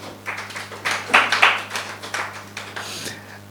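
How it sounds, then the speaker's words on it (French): A small audience applauding a speaker at a French speaking event, a short burst of hand claps that rises to a peak midway and then thins into scattered claps, close and fairly clear. "Est-ce qu'on peut l'applaudir encore?"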